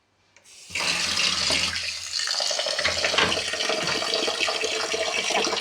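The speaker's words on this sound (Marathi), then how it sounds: "अशा प्रकारे मी स्वच्छ तांदूळ धुवून घेतलेले आहे" Rice being washed clean in several changes of water, heard as a steady loud rush and slosh of running water that starts abruptly and continues without break, close by and alone.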